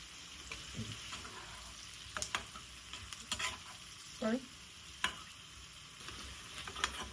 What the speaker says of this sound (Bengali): এটা হয়ে গেলে আমরা যখন নাড়াচাড়া করতে থাকছি, তার মধ্যে আমরা একটু বাকি আলু, টমেটো যেগুলো আছে সেগুলো দিয়ে দিচ্ছি।